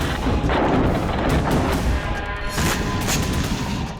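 A Syrian and Russian strike hits a rebel convoy in east Idlib, heard as dense, rumbling explosive blasts and crackling detonations that roll on continuously and loudly, with no talking.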